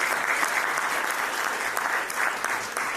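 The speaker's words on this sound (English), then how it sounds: "I would request the audience for a round of applause." Audience at a venture capital conference claps steadily after a panel session ends, a dense, even round of applause filling the room at moderate volume.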